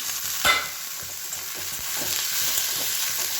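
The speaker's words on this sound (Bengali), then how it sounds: "গুগলিটা দিয়ে একটু নাড়াচাড়া করি" A spoon stirs snails frying with onions and potatoes in a pan, steady sizzling under repeated scraping strokes, close and fairly loud with no talk.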